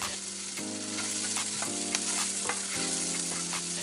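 Chopped onions frying in a pan for potato chutney, a steady close sizzle with scraping strokes as they are mixed, and a low hum running underneath.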